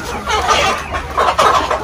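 Black Australorp chickens clucking nearby on a poultry farm, a loud, close run of overlapping clucks and short calls in quick bursts.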